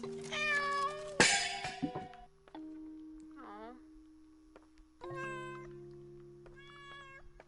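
Several drawn-out cat meows from the horror video game Layers of Fear sound in separate bursts, clear and fairly close against a quiet backdrop with a faint steady tone.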